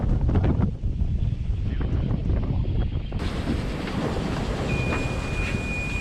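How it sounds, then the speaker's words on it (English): A strong afternoon squall of wind roars over a sailboat in the mid-Atlantic. It is a loud, steady rush with heavy buffeting against the microphone, and a thin whistling tone comes in toward the end. "Day 5, ready for our afternoon squall."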